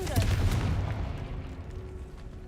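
A Confringo fire spell cast in Hogwarts Legacy lands as a single heavy boom that rumbles and fades over a couple of seconds.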